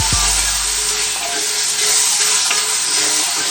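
Tomato masala for cauliflower frying in a pan and being stirred, a steady bright sizzle with soft scraping strokes and a brief thump at the start, heard alone with no talk.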